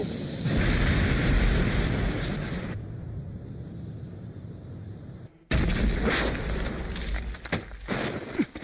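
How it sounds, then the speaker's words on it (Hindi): An anime fire-style fireball jutsu attack erupts as a loud, roaring blast with a booming low rumble, dies to a softer hiss for a couple of seconds, then slams back with another heavy burst and crackling impacts. "Fire style, fireball jutsu."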